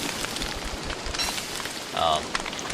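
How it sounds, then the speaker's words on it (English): Rain falling in Don't Starve during the spring season, a steady soft patter with a brief louder burst near the end, the speaker talking over it. "Well, we got rain too, so we're definitely in the spring."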